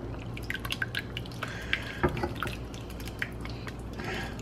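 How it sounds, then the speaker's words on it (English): Pasta sauce poured from a pan onto spaghetti for a spaghetti pizza casserole, making faint wet drips and soft plops against a quiet kitchen background. "you're just gonna pour your sauce right in with your spaghetti."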